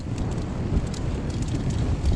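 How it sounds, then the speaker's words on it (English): Wind blows across an exposed mountain summit on a cloudy day, a steady rough rush of gusts buffeting close to the microphone with no voices. "Because it's so windy and cloudy and everything else."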